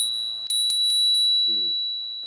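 Small bell made in Hlinsko rung up close, a clear sustained high ring with a few quick struck repeats that hangs on and slowly fades, with a brief low voice murmur partway through.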